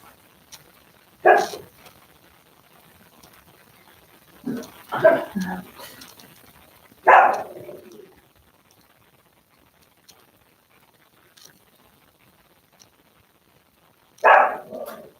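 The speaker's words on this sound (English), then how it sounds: "my dogs bark at everything pretty much" Dogs at a house bark loudly in separate close bursts, a single bark, then a cluster of barks, another, and after a long quiet gap one more, against a near-silent background.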